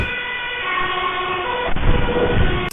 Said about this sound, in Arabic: تخيلوا إن دي عربية الإسعاف اللي المفروض تساعد الناس